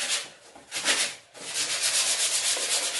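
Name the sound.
sanding wood shelf with sandpaper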